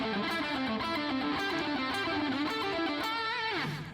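An overdriven electric guitar plays a fast cascading pentatonic run of descending note groups, dense and continuous at close range with no talking, finishing with a downward slide.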